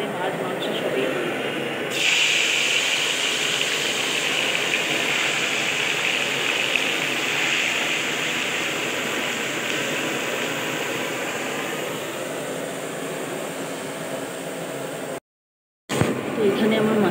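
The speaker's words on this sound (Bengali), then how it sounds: "তো দেখো স্টোভ জ্বালিয়েছি" A lit cooking stove, readied for a fish curry, gives off a loud, steady hissing roar that sustains throughout, briefly cutting out before resuming.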